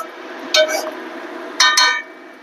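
A spoon clinks twice against a metal pot while boiled chicken is stirred, two bright metallic knocks about a second apart over a quiet background hum.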